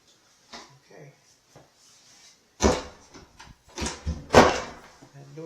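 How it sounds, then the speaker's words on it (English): An interior house door swinging open or shut, a few woody knocks and thuds at close range among footsteps and movement, with a person speaking nearby. "That door is kind of weird."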